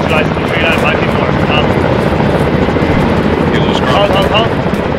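Helicopter rotor and engine noise in a military combat video game, a steady loud drone running through the whole stretch with faint chatter and other game sounds over it.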